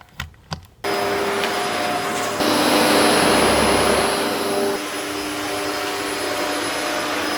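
A household vacuum cleaner starts after a couple of clicks and runs with a loud, steady roar that rises briefly in pitch as it hoovers nearby, then settles back to a constant whine.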